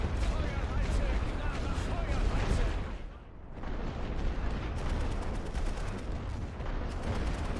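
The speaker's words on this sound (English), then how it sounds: "Hit them with artillery again. Give them a healthy barrage before the attack goes in." An artillery barrage in the World War I video game The Great War, with dense, continuous rumbling blasts and booms, loud and sustained, briefly thinning before resuming as heavy shellfire.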